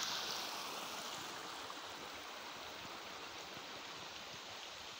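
A rain-swollen creek rushes with a steady, full hiss of flowing water, close and constant from start to finish, with no voices.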